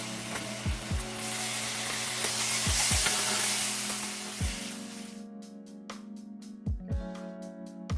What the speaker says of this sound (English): you're just going to add that entire container to the sauteed onions, and you're going to let it incorporate in